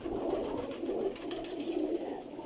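Teddy and Rampuri pigeons cooing in a loft of a high-flying pigeon breeding setup, soft repeated low coos rising and falling over a steady background hum, with no talk.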